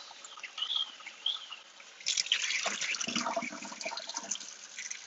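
Hot water from a tap rushes over aquarium pump and skimmer parts, faint trickles at first, then a louder, fuller splashing stream that keeps running close by.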